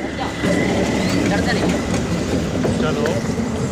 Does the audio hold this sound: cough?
no